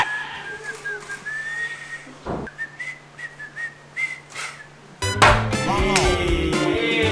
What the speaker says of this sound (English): next is whistle